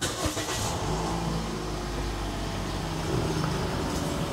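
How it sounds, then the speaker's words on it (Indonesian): A 2011 Toyota Vios G automatic facelift sedan's engine fires up and settles into a steady idle, a continuous mid-pitched hum with a brief initial surge, heard close and alone. "Saya akan nyalakan mesinnya."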